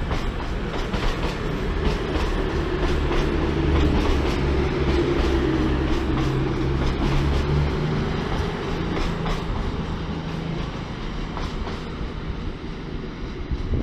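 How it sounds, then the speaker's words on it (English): A CrossCountry class 220 train pulls out of Manchester Piccadilly station close by, a loud continuous rumble with rhythmic clacking of wheels over the rail joints. "A different cross-country train."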